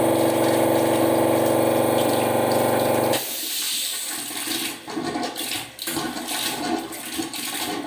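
Water and air gush loudly and steadily from a radiator flushing apparatus, then cut off abruptly into a sputtering, uneven flow of spitting air bursts and splashing water.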